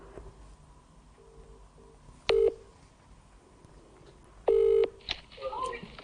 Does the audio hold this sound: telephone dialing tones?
yes